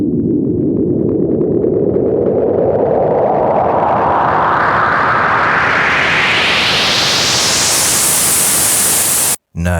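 Reversed sample on a Roland SP-404 MK2 in a techno setup: a dense noisy wash that swells and brightens steadily over about nine seconds, then cuts off abruptly with a brief gap and restart.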